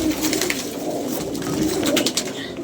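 A pet pigeon coos steadily and close by, soft throaty rolling calls repeating over a continuous low murmur of other birds, with no talking.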